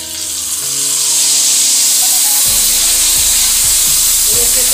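Sabudana papad frying in hot oil: a loud, steady sizzle and hiss that swells after the first second and holds, with faint background tones underneath.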